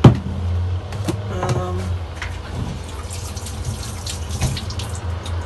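Water runs from a tap into a container with a steady splashing flow, close by, with a few clinks and small knocks.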